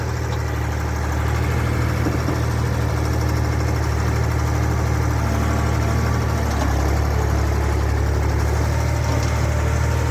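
A Mitsubishi Fuso 220 Turbo truck engine idles steadily with a deep, even low rumble and faint vibration throughout, running alone and close by at a cane-loading site.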